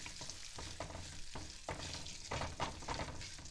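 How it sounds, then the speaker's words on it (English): Cashews and hing frying in a pan while being stirred, a steady sizzle broken by regular scraping strokes of the spoon, close and fairly quiet with no voices. "Now let's stir this up until the cashews brown a bit."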